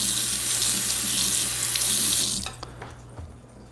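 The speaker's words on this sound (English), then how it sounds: "Let me wash the spoon for a sec." A spoon is rinsed under a running kitchen tap beside an espresso setup; a steady, close rush of water pours for about two and a half seconds, then cuts off, leaving a few faint drips and clinks.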